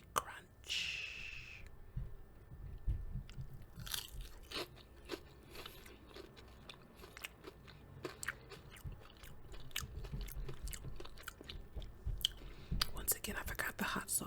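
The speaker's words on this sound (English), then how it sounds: "did you hear that crispy crunch?" Crispy pan-fried basa fish, bought fresh, being eaten up close: sharp crunchy bites and steady wet chewing recur throughout, with soft whispering in places.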